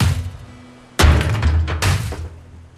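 A hammer strikes a post in Ship Graveyard Simulator on PlayStation 5: two loud, close thuds about a second apart, each with a short ringing tail, over a faint low background hum.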